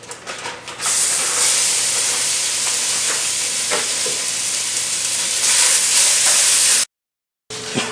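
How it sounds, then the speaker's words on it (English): About a pound of sausage browns in a hot pan, giving a loud, steady sizzle and hiss close up with occasional stirring scrapes, then cutting off abruptly near the end. "I have about a pound of sausage here. I'm going to go ahead and brown up in my pan."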